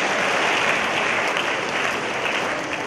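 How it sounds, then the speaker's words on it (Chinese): Dense, sustained applause from a gathering in a school setting, with a basketball team receiving donated sneakers, fills the space as a steady, loud wash of clapping with no pauses. "来，掌声掌声"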